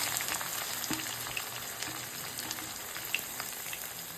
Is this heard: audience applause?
no